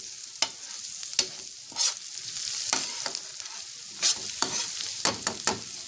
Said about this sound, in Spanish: coloqué el apio también para dorar junto con la cebolla